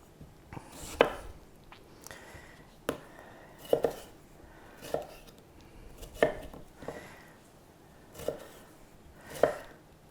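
A knife chops regional tomatoes into big quarters on a cutting board, giving sharp, separate knocks roughly every second, with softer handling sounds between the cuts and no talking.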